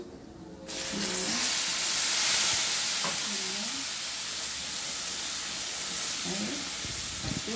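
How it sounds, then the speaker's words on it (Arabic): Water poured onto frying pasta sets off a sudden loud hiss and sizzle that holds strong, then settles into a steady close bubbling fry. "هننزل عليها كده اهو كوبايه الميه"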